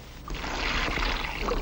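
Water keeps pouring into a hat in a 1953 comedy scene, a brief continuous splashing gush heard up close.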